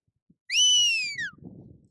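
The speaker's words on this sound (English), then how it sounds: "So always do a stop whistle," A sheepdog training stop whistle, one sustained high shrill note that bends slightly and then drops at the end, loud and clear, followed by faint low rustling.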